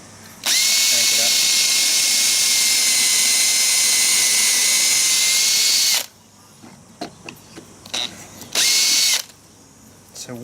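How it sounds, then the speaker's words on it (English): A power drill whines loudly and steadily for about five seconds boring a pocket hole in plywood with a Kreg jig, stops, then gives a short second burst after some quiet handling noises. "So all I've got to do is I feed the drill down until it touches"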